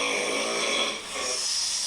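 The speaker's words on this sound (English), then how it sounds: "When I'm breathing out, dude, it sounds like a tire going flat." A person exhales with a continuous breathy hiss, close and fairly loud, like air escaping from a tire going flat, with a brief dip before the hiss resumes.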